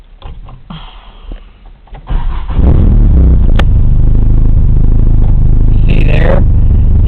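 A Mitsubishi Starion engine with a 274 cam cranks briefly, catches loudly and settles into a steady, close rumbling idle that fills the rest of the clip.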